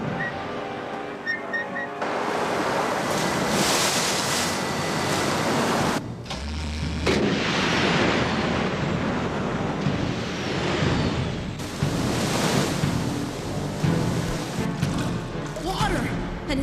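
Loud, continuous rushing water surging close by in an animated sci-fi setting after intake valves are reopened, a broad roaring wash with mechanical rumble underneath that swells and persists for the whole stretch.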